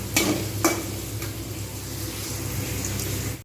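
Steady crackling sizzle of potatoes frying in hot oil, with a couple of sharp clinks of a utensil stirring early on; no voices.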